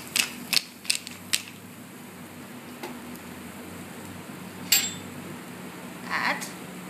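A pepper mill grinds black pepper over tiger prawns being prepared for a cognac flambé, a few short, sharp ratcheting grinds at the start followed by quieter scattered clicks against a low kitchen hum.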